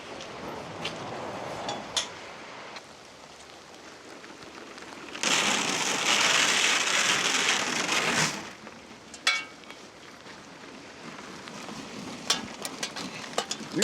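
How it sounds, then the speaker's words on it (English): Steady rain patters and hisses throughout, swelling into a heavier downpour for a few seconds before easing back, with occasional sharper drops. "it's coming a pretty good rain now"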